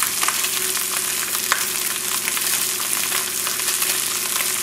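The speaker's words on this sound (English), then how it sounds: "with the lid shut, the steam from the wine will finish cooking the fish" A fish fillet braises in wine inside a tightly covered sauté pan, giving a steady, dense sizzle and bubbling hiss with faint crackles and no talk.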